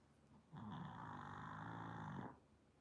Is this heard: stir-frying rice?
no